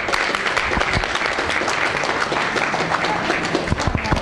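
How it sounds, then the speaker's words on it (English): A crowd at a poker tournament final bursts into loud, sustained applause for the champion, dense clapping filling the whole stretch with a few scattered cheers. "Can we have a big round of applause, please, for the champion, Mr. Joseph Kwok"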